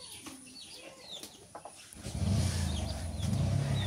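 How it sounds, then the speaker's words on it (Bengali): Village chickens cluck faintly in a short run, with a louder rumbling background noise rising partway through. "এই মুরগিগুলোর কি খবর?"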